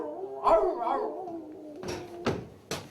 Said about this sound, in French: Sors-le pour qu'il cesse d'aboyer.